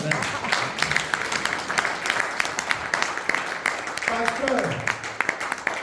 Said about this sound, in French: Est-ce qu'on peut acclamer aussi pour ça?